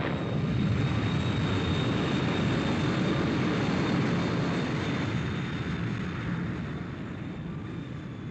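A propeller aircraft drones steadily and loudly throughout, a broad continuous engine roar that eases off slightly toward the end, with no voices over it.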